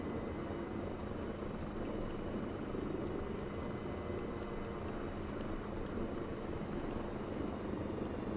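A helicopter in Arma 3 gives off a steady, loud rotor and engine drone that holds without a break throughout.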